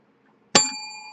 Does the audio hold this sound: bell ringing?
yes